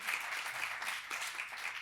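Audience at a tribute event honoring Jean de la Fontaine and Senghor applauds; a steady, moderately faint wash of clapping with no voices over it, lasting under two seconds.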